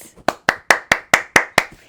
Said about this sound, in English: let's give this book a round of applause